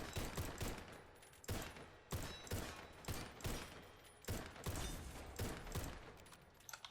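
Pistol gunfire in the video game Warface, a rapid run of about a dozen loud, crisp shots in uneven bursts, close and alone with no talk.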